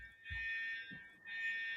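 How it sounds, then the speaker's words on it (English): An office fire alarm sounds in a loud, steady electronic tone in two long blasts split by a brief gap, with no voices over it. "we can hear the fire alarm, and it's actually the fire alarm that's right for that office"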